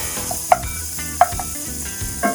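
Bacon cooking in a pan makes a close, steady crackle and sizzle with a few sharp pops, while a musical tone plays underneath.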